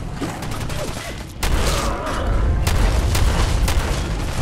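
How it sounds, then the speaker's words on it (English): Heavy shotgun blasts in Fallout 4, booming loud and close, with a sharp onset partway through followed by several punchy discharges over a rumbling background. "this shotgun is ridiculously powerful"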